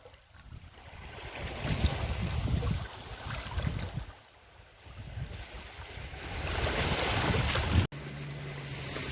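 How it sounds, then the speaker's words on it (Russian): Waves wash up on a sandy Sea of Japan shore, surging and receding in broad swells, mixed with gusty wind buffeting the microphone and a sudden brief cut near the end. "Мое японское море, чудесное,"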